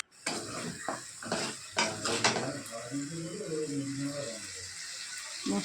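Spices being stirred and fried in a pot for a vegetarian potato curry, with scraping and clattering of a utensil against the pot, early sharp knocks followed by softer stirring, a close sound.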